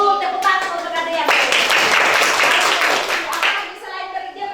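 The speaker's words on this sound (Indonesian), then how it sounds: "Tepuk tangan untuk kalian." Children in an elementary classroom clap their hands together in a short burst of dense group clapping, with voices around it before and after.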